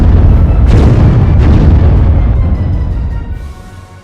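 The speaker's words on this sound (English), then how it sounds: "3 more depth charges rock the Player's Aid" Depth charges exploding in the Silent Victory submarine game: a loud, continuous deep booming rumble with a couple of bursts layered in, slowly fading away toward the end.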